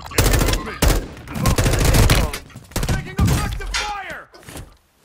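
Warzone 2 gunfire comes as rapid, loud bursts of shots with sharp cracks and impacts, a dense fusillade that thins toward the end.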